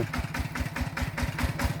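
A walking tractor engine driving a water pump beside a stream, a steady loud thumping idle with fast even pulses close by.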